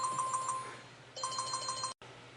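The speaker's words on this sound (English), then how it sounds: "I've got a phone call I got to take." A telephone rings in two electronic bursts of rapid warbling tones, close and clear, separated by a brief pause and cut off abruptly by a short silence.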